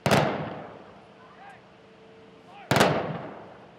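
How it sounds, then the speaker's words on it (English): Rifle volleys of a 21-gun salute at a police officer's funeral: two sharp, loud cracks about two and a half seconds apart, each followed by a fading echo, with faint sounds in between. "A 21-gun salute."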